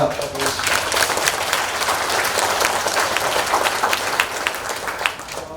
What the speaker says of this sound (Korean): 총무 이미정님이 고생하시는 걸 제가 많이 봤기 때문에 이렇게 박수 받는 걸 보니까 제가 받는 것보다 더 기분이 좋습니다